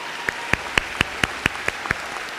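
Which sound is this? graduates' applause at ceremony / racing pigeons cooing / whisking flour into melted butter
graduates' applause at ceremony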